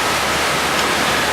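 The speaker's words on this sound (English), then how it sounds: "The waterfall is 78 meters high, and that makes it the highest waterfall in Southeast Europe." A 78-metre waterfall roars as a steady, loud broadband rush of falling water, close and constant with no other sounds.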